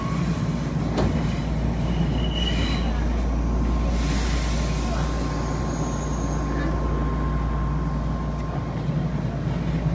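Interior of an Odakyu 1000 series train in Hakone Tozan livery running as a rapid express, a loud steady rumble of wheels and motors with a faint high squeal and a thin whine above it.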